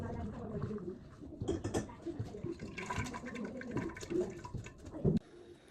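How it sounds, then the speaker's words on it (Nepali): Water drains off boiled noodles, a splashing, gurgling pour that comes in uneven surges with a final splash near the end, fairly faint and close, with no talking. "अब यसको पानी थोरै फाल्ने"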